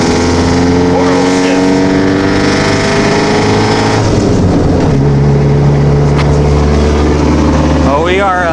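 An old car pulls away and drives off down the road, a loud engine revving and droning with shifting pitch, tires and rattles under the cabin noise.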